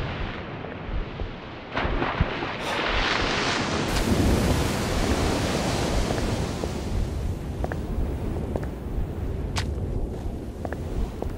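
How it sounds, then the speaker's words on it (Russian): Strong wind in Call of Cthulhu: Dark Corners of the Earth, a loud, broad roar that swells and surges like crashing surf, with sharp cracks and thuds breaking through as the gusts slowly ease. "Здесь дует сильный ветер"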